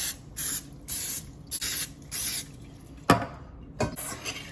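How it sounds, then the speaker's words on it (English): Several short hissing bursts from an aerosol can, five quick sprays in a row followed by two sharper ones, close and distinct. "I'm gonna go ahead and spray these with a little bit of cooking spray in each one."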